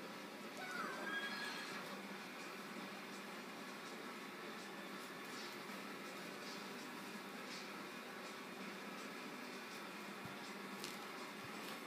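Horse neighing in the Wii equestrian video game: a faint whinny near the start, then a steady low game soundscape that continues with no further clear calls.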